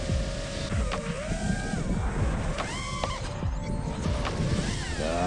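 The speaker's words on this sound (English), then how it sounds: "The wind is blowing my head off." Gusty outdoor wind buffeting a microphone at an FPV drone freestyle flying spot, a loud steady rumbling roar throughout, with a drone's whining motor tones rising and falling over it.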